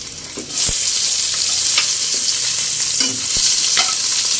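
Onion sautés in hot oil in a pan for ginataang suso, a steady loud sizzle with a few clicks of stirring from a utensil, close up and free of voices.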